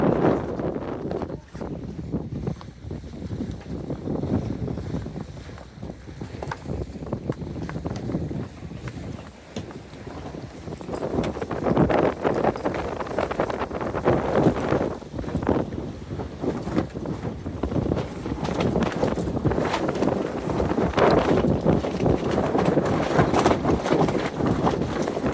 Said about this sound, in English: Since we go into the wind, the sails are flipping